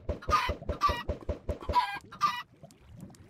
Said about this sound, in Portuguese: Nasceram galinhas.